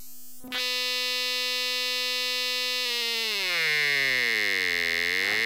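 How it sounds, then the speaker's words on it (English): A granular wavetable oscillator synth tone, sustained and buzzy with rich harmonics, holds steady, then its timbre shifts and the pitch sweeps downward and back up near the end. "you can use this external as a wavetable oscillator"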